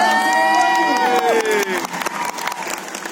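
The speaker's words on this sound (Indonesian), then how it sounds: "Boleh tepuk tangan yang meriah untuk Kristal" Lively audience applause and cheering for a performer at an indoor theme-park show, a dense wash of clapping under loud tonal music and an announcer's voice fading out.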